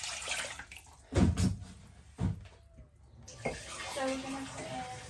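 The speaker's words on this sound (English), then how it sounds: "So we're going to put in a few cups of water." Water pours from a tap into a pot for cooking pasta in a few uneven splashy bursts of flow, close and moderately loud, separated by quieter pauses with faint voices.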